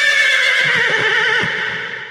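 A horse whinnies loudly in a long, wavering call, with hoof clip-clops beneath it, from the opening of the Tamil TV serial Marma Desam.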